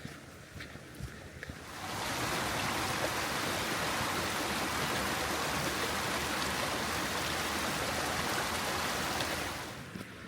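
A brook flows steadily beside a sandy path on a countryside walk near the Longshaw Estate, a loud continuous rushing wash that swells in after a quieter start and fades slightly at the end.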